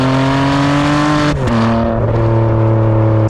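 A Ferrari 599 GTB's V12 holds a loud, steady high-revving howl, with a brief dip and shift in pitch partway through before it settles back to a sustained drone.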